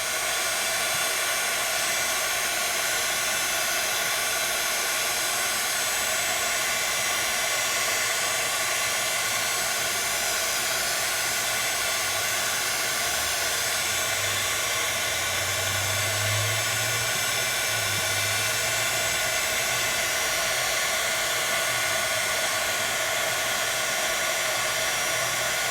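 A heat tool on high blows a loud, steady hiss and whoosh of hot air over shrink plastic, continuous for the whole stretch with no talk.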